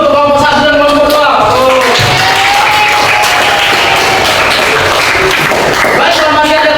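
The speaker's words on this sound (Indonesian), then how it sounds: "Tepuk tangan dulu untuk kelompok 1 dan kelompok 2." Classroom applause for two student groups: a burst of clapping swells across the room under continuous voices and music-like tones, loud and busy throughout.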